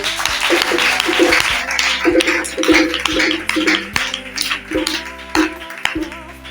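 A church congregation claps in acclamation of the Lord during a testimony, loud continuous applause mixed with sustained musical tones and tapping, with some voices underneath.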